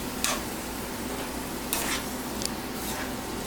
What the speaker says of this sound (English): You saute a little bit.